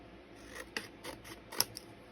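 Scissors trim paper for a handmade garden journal, giving several crisp snips in an uneven rhythm, close and fairly quiet.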